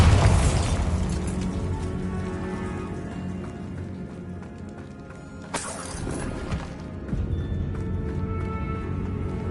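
Bombarda spell explosion in the video game Hogwarts Legacy: a loud, deep boom with shattering debris that decays into rumbling rubble, followed by a second sharp crash mid-clip.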